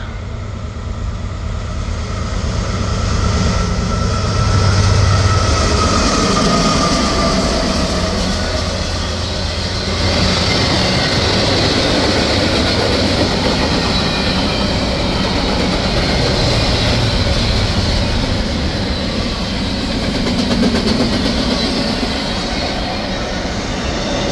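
An eastbound freight train rolls past the old depot in Amherst, Ohio, a loud, steady rumble and clatter of wheels and cars that fills the whole stretch without a break, heard up close in the open air.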